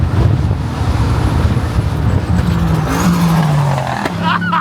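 Race car engine revving hard under load with a brief stumble and drop in pitch as the driver misses a gear shift, loud and close amid roadway noise, with a voice speaking faintly.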